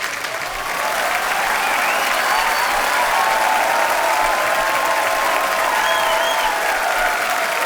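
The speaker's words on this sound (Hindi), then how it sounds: "आपकी जोरदार तालियों के बीच इनवाइट करना चाहूंगा वेरी टैलेंटेड श्रेयस तलपड़े।" Loud, sustained applause from the studio audience of a Hindi TV comedy talk show, a full wall of clapping that swells after a brief start and holds steady at close range, with faint tonal sounds running underneath.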